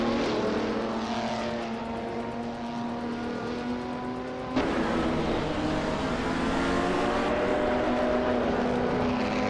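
Race car engines in a video game whine at high revs as cars battle nose to nose for the lead. Layered steady engine tones run throughout, with a sudden jump in pitch and loudness midway as one car shifts or passes close.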